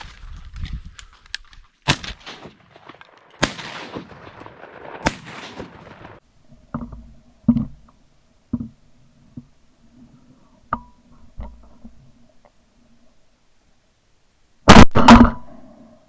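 Shotgun shots are fired at ducks on an opening-day waterfowl hunt, several sharp isolated blasts spaced irregularly across the stretch, with a loud close shot near the end and faint outdoor movement between.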